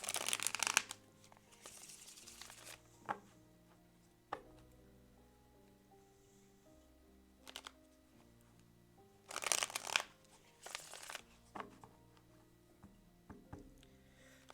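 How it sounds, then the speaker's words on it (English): Tarot cards are shuffled in several bursts of riffling and shuffling, crisp papery rustles separated by pauses, with a few soft taps and handling noises over quiet background music. "So let's shuffle this a little bit."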